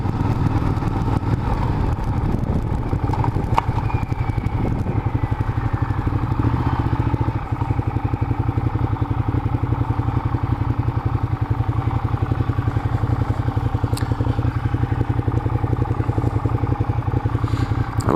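Motorcycles rumble outside the Rock Cafe on a California road trip, a loud, steady low engine chug with idling pulses and some clatter, close by and continuous, with no one talking.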